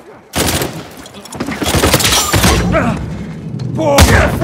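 Rapid bursts of close, loud gunfire from the Uncharted 4 team deathmatch, with overlapping shots and thuds. A voice is heard over the firing.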